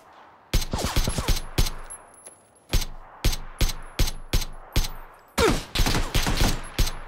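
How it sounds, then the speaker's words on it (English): Gunfire in PlayerUnknown's Battlegrounds comes in rapid volleys of sharp, loud shots, two clusters separated by a spaced run of single cracks, with no voices. "Everybody's shooting at me."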